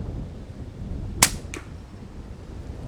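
An Air Arms S510 XS .22 air rifle fires a single 16-grain Diablo pellet, giving one sharp, fairly loud crack with a quick faint echo or impact just after, over a steady low background hum.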